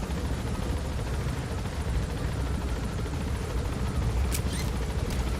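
A helicopter in Metal Gear Solid, a steady dense rotor roar that stays loud and even throughout, with a couple of brief sharp clicks near the end.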